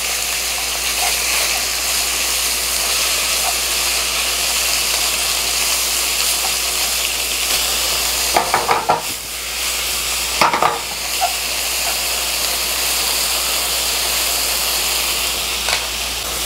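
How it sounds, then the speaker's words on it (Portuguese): Pork sautéing in a hot frying pan gives a loud, steady sizzle throughout, broken twice by brief scraping stir sounds and a few small clinks. "E dou uma refogada."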